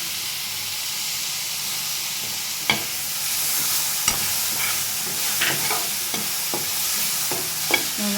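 Tomatoes sauté in a pan for chickpea kadala curry, giving a soft steady sizzle broken by occasional scraping stirs from a spoon, fairly quiet and with no talking.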